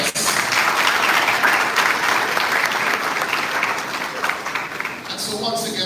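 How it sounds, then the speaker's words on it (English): At a St. Jago High School prize giving ceremony, a crowd breaks into loud, sustained applause that rolls on for several seconds, thinning slightly toward the end as a voice begins over it. "It's fitting at this time just to give a round of applause."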